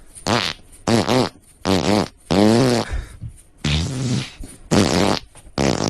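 A string of farts squeezed out as the tune Let It Snow, each one a loud, pitched, buzzing blast in a rhythmic sequence of separate notes with short gaps between them.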